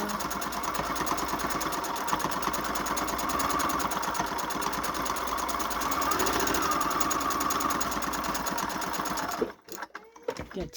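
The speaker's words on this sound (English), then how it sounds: "We're going to go to our sewing machine" Sewing machine top stitching around a fabric gift card holder, a close, steady rapid mechanical chatter that runs for most of the clip and then stops abruptly, followed by a few soft handling sounds.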